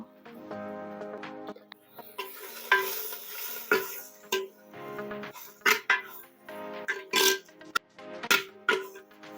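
Clams sizzling and frying in a pan for a seafood sukka, with repeated scraping stirs and clinks of a utensil against the pan over a steady close sizzle, no talking.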